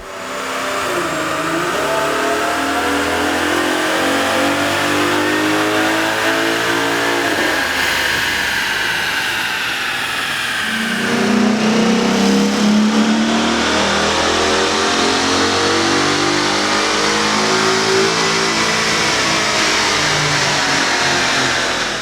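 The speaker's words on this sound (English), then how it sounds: "we ran the vehicle on the dyno to test the sound comparison versus the stock intake" A Ford Mustang GT 5.0L V8 with an aftermarket air intake revs steadily upward under heavy load on a dyno, its rising drone loud and continuous, climbing through the gears with a brief dip midway.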